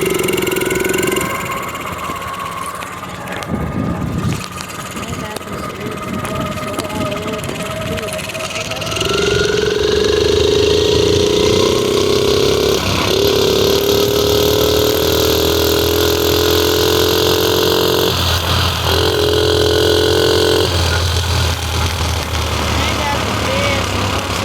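A mini bike's small engine drones steadily throughout a ride, rising in pitch as it speeds up and holding a loud, continuous buzz with brief dips, while a rider talks over it at times.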